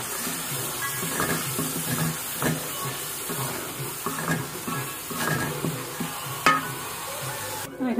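Boiled beef liver fries in hot oil in a wok with a steady, close sizzle, broken by the scrape and clatter of stirring.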